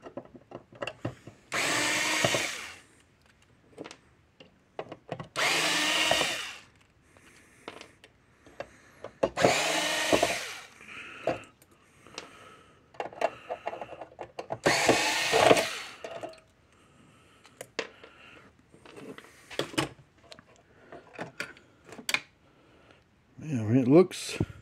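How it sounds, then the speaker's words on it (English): A power drill backs screws out of the circuit board of a Cyclops Boss fence charger, buzzing in several loud bursts a few seconds apart, with quieter handling noises in the gaps between them. "let's get the screws out of the board and pull it out"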